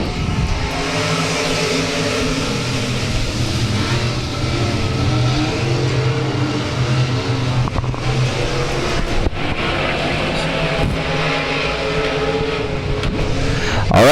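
Race cars roar around the oval at South Texas Speedway under green-flag racing, a dense, continuous engine drone with rising and falling revs from a pack of cars, loud and steady throughout with no talk.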